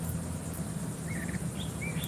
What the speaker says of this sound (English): I love listening to the birds talk back and forth to each other.